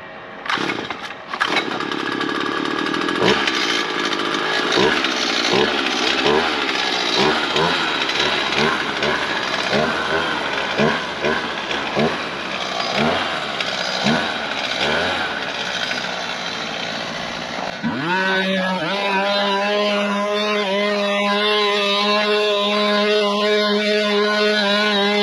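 A loud motorized machine for pulling gravel out of a lawn runs steadily with a rough, buzzing engine drone, then settles into a smoother, lower idling hum near the end.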